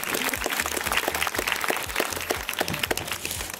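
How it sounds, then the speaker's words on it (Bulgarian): Film festival audience applauding at an evening screening, a scattered, moderately loud patter of individual claps with distinct sharp hits close by and low rumbling in the background. "Аплодисментите и тази вечер са за вас."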